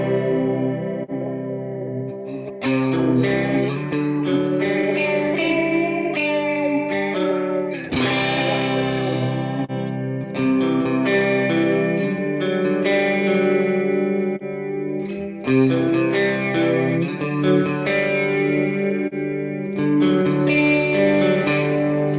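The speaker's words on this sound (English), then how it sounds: "80s studio chorus." Guitar played through an 80s studio chorus preset on a Universal Audio Ox, lush, shimmering chords and arpeggios ringing out in repeated phrases with a wide, modulated wash and some grit, no talking.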